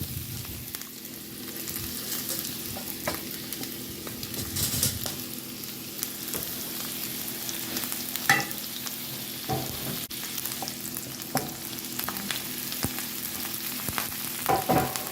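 Broccolini, caramelized onion and mushrooms are stirred together in a hot frying pan, giving a steady close sizzle with repeated spatula scrapes and clicks running throughout, no voices.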